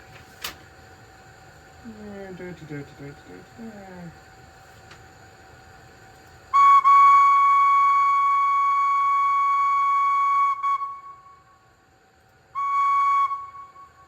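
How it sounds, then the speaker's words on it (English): An Oxford Rail J26 model steam locomotive with DCC sound blows a long sustained whistle blast, then a shorter one after a pause; a brief murmur of a voice comes before. "So let me see, where's the whistle?"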